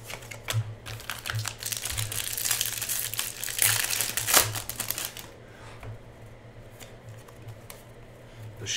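Wrapper paper is crumpled and pulled from 2016 Bowman Draft Picks jumbo box baseball card packs, making close, crisp crinkling and rustling bursts that swell midway and then fade to quieter handling.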